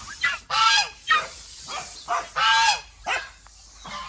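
Two geese honking close by near a home kitchen, with loud nasal honks repeating in uneven bursts and short pauses between calls, no talking.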